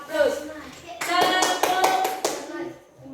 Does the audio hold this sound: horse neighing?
no